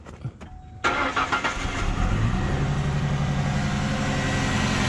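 A car engine with a misfire cranks and catches, then runs with a rough, uneven idle that stumbles, loud and close.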